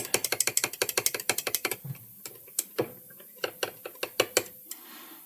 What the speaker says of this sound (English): Get that stirred up real good.